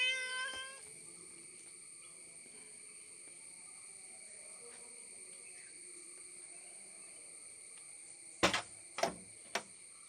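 A wounded male cat, scarred from fights with other cats, gives a short, fairly close meow at the start. Then comes a long quiet stretch and a few sharp clicks or knocks near the end.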